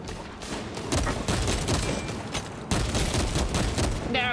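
Gunfire in Space Marine 2 while fighting bugs: dense, loud, continuous rapid automatic fire with heavy booming impacts, a steady barrage from start to finish.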